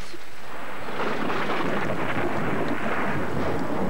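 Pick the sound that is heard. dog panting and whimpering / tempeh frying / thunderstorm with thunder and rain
thunderstorm with thunder and rain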